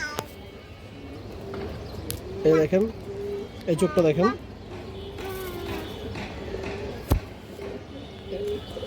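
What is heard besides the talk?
ring-eyed pigeons cooing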